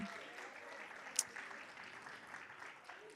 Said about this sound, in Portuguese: A mulher pode aplaudir os homens de Deus aí